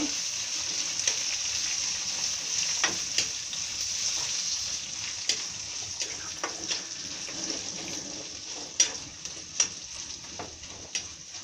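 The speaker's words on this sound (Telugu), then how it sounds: "మిరపకాయలు వేస్తున్నాను, ఆవాలు కూడా వేసేసాను" Chillies and mustard seeds sizzling in hot oil: a loud, steady, hissing fry that runs throughout, with scattered pops and crackles near the end, close up and with no voices.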